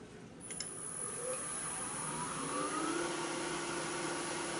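A Merlin 2 rotary carving tool switches on and runs at about 2000 RPM, cutting a chamfer. It gives a steady, close, high-pitched whine over a broad motor hiss, with no speech.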